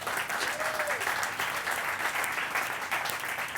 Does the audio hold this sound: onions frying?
no